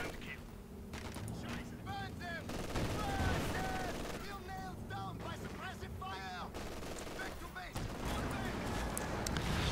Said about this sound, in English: What in the hell is that? What? Oh, it's artillery.